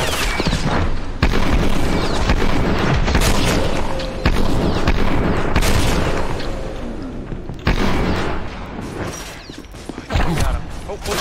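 Gunfire rings out in the physics-based shooter Maximum Action, with repeated loud booming shots and bursts scattered across a chaotic firefight, mixed with mechanical clatter and occasional voices.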